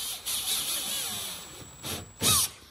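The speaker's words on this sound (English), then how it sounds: "So first thing we'll do is just drill these out." A power drill drilling through plastic on a CFMoto Uforce 1000 cab enclosure whines in short bursts, a few high squealing pulses with pauses between, close by and fairly quiet.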